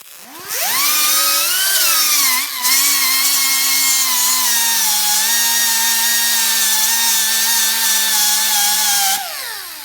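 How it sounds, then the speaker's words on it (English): One long, loud grinding pass from a power grinder on a metal clutch pedal stop: the motor spins up, holds a steady whine under load for about nine seconds, then cuts off. No voices. "so we're just gonna grind"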